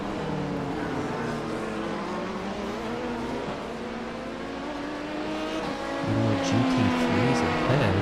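GT3 race cars in iRacing roar close by, engines droning and shifting pitch as they pass and rise in revs, with a louder, harsher engine note swelling near the end.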